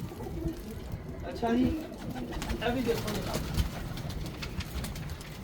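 A female Ferozpuri pigeon coos in low, soft, repeated phrases close by, partly under a voice as he talks.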